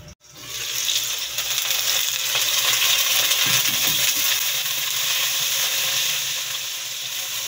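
Tomatoes sautéing in a pan with other aromatics for mussels, a steady bright sizzle and hiss that starts abruptly and holds evenly close up, with a few soft clinks of stirring.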